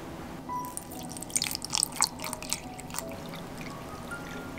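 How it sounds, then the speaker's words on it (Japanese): Water poured into a container to brew Lipton cold-brew iced tea at home in a morning kitchen; a soft, close trickling and splashing stream that swells for a couple of seconds, then eases off, with no talk. "お水を注いで3分待つだけなのでとても簡単です。"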